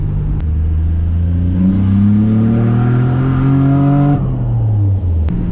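A turbocharged Nissan Navara with a VG30 engine pulls hard in second gear, its engine note climbing steadily in pitch over several seconds before a brief dip at the shift, loud and close with no talk.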